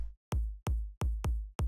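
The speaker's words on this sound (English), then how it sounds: "add a kick in here to ground the snare build, and it sounds like this." Short electronic kick drum in a progressive music track, thumping five times with deep low punch and quick decay, grounding a snare build; each hit is loud and close with brief gaps between.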